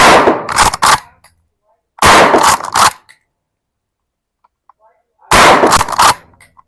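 Close, loud gunshots at an outdoor shooting range, fired at a target in three separate bursts of rapid shots with short silent gaps between them.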